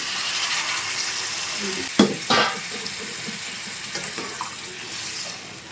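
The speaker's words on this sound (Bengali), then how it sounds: "এখন আমি পরিমাণ মতো জল দিয়ে দেবো" Hot water is poured into a pan of frying spices for rohu fish curry with cauliflower and potato. A sudden splashing rush sets off a surge of sizzling, which then settles into a softer bubbling hiss.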